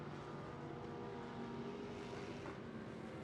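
The number 94 Pro Lite race truck on General Tires races at Crandon during the 2019 World Championship, its engine a faint, distant, steady roar that holds an even drone throughout.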